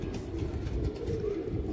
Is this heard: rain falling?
no